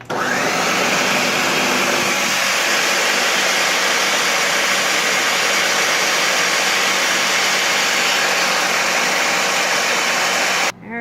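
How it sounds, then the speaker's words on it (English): A blender mixing butter for a gluten-free, dairy-free chocolate cake, heard as a loud, continuous, close whirring roar that holds steady for about ten seconds and then cuts off. "the butter's going in the blender. And we're going to mix that together."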